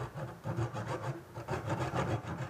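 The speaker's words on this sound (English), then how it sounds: "you'll be able to feel the saw when it breaks through" Hand saw cutting through a battery charge cable clamped in a vise, a steady rhythmic back-and-forth rasping of about a dozen close, even strokes with no talk.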